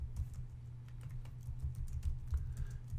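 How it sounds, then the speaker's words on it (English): Quick, light keypresses on a computer keyboard come in an uneven run of soft clicks, fairly close and quiet, with no voice. "If I come out here and type in"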